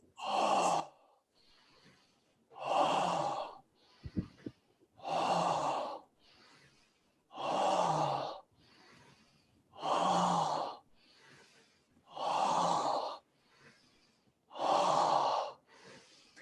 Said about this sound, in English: Inhale the nose, exhale the mouth.